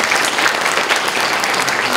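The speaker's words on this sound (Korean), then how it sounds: "우리 감사의 박수를 올려드립니다" A church congregation gives a dense burst of applause at a year-end service, loud and continuous throughout with no gaps.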